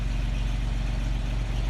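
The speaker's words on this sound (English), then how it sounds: "It sounds a lot like a V8. Very torquey." A deep, rumbling 1971 Jeep CJ6 engine with dual exhaust and cherry bomb mufflers idles steadily up close, a low throbbing V8-like burble with no other sounds.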